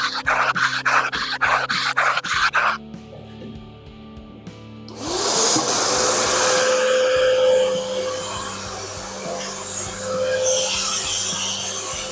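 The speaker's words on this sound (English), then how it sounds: "I'm already sanding through the wood" Rhythmic bursts of scraping give way to a steady, loud power-sander whine with a constant tone, sanding a wooden guitar neck close and uninterrupted for several seconds.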